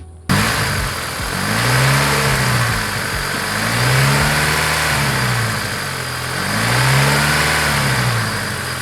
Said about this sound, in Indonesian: Kita langsung dengerin suara mesinnya aja.